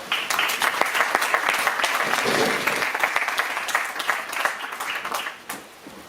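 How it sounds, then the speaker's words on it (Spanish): An audience at an institutional award ceremony in Spain applauds, a full, steady round of clapping from many hands that holds for several seconds and tapers slightly at the end. "De Diputación, Carlos, un aplauso."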